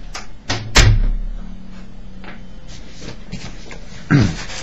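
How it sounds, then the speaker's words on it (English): A heavy fire door shuts with one solid thud, followed by a low lingering rumble and a second, softer knock a few seconds later, heard close in a quiet room. "Shut the fire door. Shut that door."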